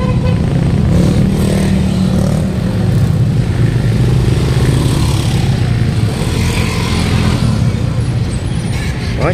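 Motorcycle engine riding through a busy fishport market in Navotas, a steady close putter running throughout with market bustle and distant voices around it.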